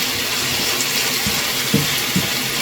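Water pours steadily into a cooking pan during the making of saucy pancit canton, a continuous gushing splash with a few faint knocks.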